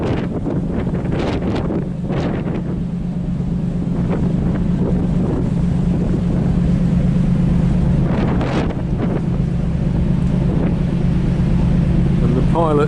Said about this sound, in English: the pilot boat making use of the shelter of the ferry for a smoother crossing